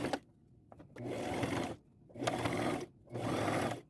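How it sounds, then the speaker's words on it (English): A sewing machine runs a straight stitch along a folded lace hem, whirring loudly in three sustained bursts separated by brief pauses, close up with no talking. "I am going to fold this over once, 1/4 of an inch on the outside, right sides together, and run a straight stitch along it."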